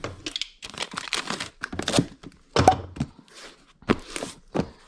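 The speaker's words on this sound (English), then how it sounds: "Get some tape on the sides to keep it all sealed." Packing tape rips off the roll and onto the sides of a shipping box holding a wallet, in short, close, crackly pulls and presses that come in bursts with brief pauses between.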